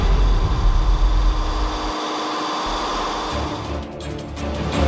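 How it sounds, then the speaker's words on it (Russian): An overheating yacht engine with a failing cooling system runs loudly and continuously, a close, steady low rumble that dips briefly midway before picking back up. "Двигатель перегревается, а это уже серьезная проблема."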